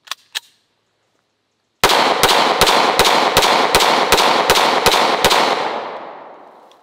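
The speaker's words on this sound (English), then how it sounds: "Now let's hit it with one pistol round at least. This is my Smith & Wesson M&P 45" A Smith & Wesson M&P 45 pistol fires ten rounds of 230-grain .45 ACP jacketed hollow points into a bulletproof backpack. The sharp, loud, close shots come in a fast even string and ring out into a fading echo.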